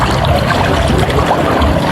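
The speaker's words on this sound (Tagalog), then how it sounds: "Napakalino na ng dagat. Napakakalmado na. Ayan, yung dagat tahimik na. Wala nang alon." Calm sea water beside a boat, a steady wash and gentle trickle of water that stays close and fairly loud throughout, with no waves breaking and no voices.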